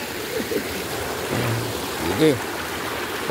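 The Palakol River flows with a steady, hissing rush of moving water, while someone speaks briefly over it.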